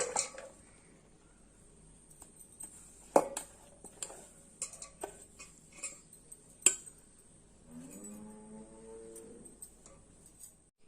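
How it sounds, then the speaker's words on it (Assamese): Finely sliced long mango pieces tipped into a large bowl for a sweet and hot pickle, scattered soft clinks and knocks of utensil against the bowl, close and quiet, with a short shuffling scrape near the end. "এতিয়া মোৰ সুবিধাৰ কাৰণে এই ডাঙৰ পাত্ৰ এটা লৈছোঁ, তাত আমখিনি বাকি দিম"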